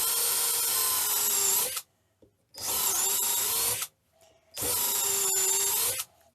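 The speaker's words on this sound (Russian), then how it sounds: "Берем ее, зажимаем в нашем шуруповерте." A cordless drill drives a screw through a plastic cap in three long, loud whirring runs of about two seconds each, separated by short pauses, close up and with no talking.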